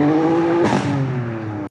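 A subscriber's car exhaust revs loudly and shifts gear: a steady high engine note, a sharp break as it shifts, then the note resumes lower and continues until cut off.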